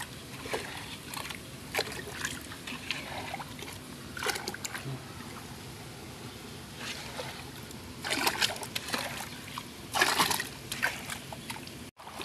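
Water sloshes and splashes as it is drained from a murky fish tank during a water change, with intermittent bursts of splashing over a low background hum.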